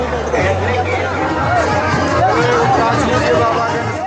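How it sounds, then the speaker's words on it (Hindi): A large crowd of pilgrims queuing at a checkpoint on the Pahalgam route of the Amarnath Yatra: steady, dense babble of many voices, with some individual talk close by. "यहाँ पर भारी भीड़ है"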